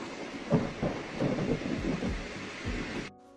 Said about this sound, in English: the thunder is it don't even sound like thunder